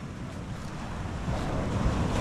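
Big ocean waves surge and wash around fishing boats at a river mouth, a steady broad roar of surf with gusting wind buffeting close to the microphone and growing slightly louder toward the end.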